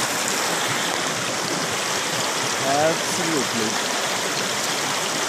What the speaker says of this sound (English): These tiny little creeks make me very happy.